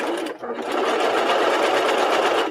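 A three-needle cover stitch machine stitches continuously at close range, a loud, even mechanical whir after a brief pause near the start.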